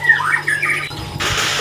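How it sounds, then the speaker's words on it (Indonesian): A caged songbird chirps and squawks in a bright, repeated burst. It sounds close and loud and then gives way to broader hissing noise. "Ini udah mulai bunyi-bunyi, emang burung udah gacor atau gimana?"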